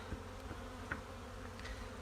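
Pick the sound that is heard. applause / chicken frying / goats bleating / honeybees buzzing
honeybees buzzing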